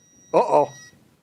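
Electrical tester beeping when touched to a live black wire during an outlet replacement, a single short, loud electronic tone lasting about a third of a second.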